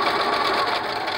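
A sewing machine runs continuously, chain-stitching pleated medical mask covers, giving a fast, even mechanical whir at close range with no pauses or talk.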